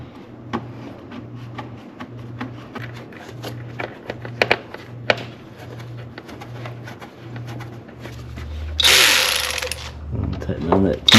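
Ratcheting clicks from a driver tightening a T15 Torx fastener on a Mercedes E350 3.5L engine during spark plug and ignition coil work, a steady close series of small pawl ticks followed by a brief louder burst of noise near the end.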